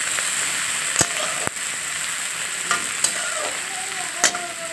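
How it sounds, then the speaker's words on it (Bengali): Sliced onion and green chilli frying in smoking-hot mustard oil in a kadai, a continuous close sizzle broken by sharp clacks of a spatula stirring against the pan. "এখন আর একটু সর্ষের তেল গরম করে এর মধ্যে পেঁয়াজটা দিয়ে দিলাম আর কাঁচা লঙ্কাটাও দিয়েছি"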